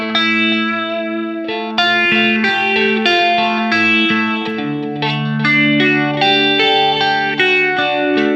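Electric guitar runs through a Line 6 HX Stomp with modulation switched on, giving a shimmering chorus-like tone as picked notes and ringing chords play steadily and up close.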